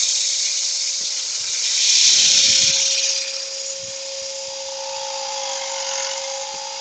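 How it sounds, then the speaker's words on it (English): A power sander whines steadily and loudly, swelling briefly in pitch and intensity before settling back to a constant drone. "Everybody loves sanding."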